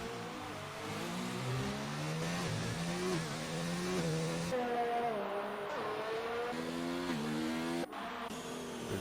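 A McLaren race car in an Xbox racing game, running slowly at Brazil, with a steady engine tone that rises and falls through gear changes and fills the whole stretch at a fairly loud level.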